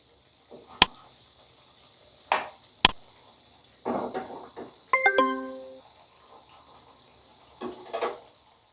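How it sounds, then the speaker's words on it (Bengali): Coated bhetki fish cutlets fry two at a time in a large kadai over a low-medium flame, giving a quiet, faint sizzle punctuated by sharp utensil clinks and scrapes. "হ্যাঁ, লো মিডিয়াম ফ্লেমে এটা ভাজছি প্রথমে।"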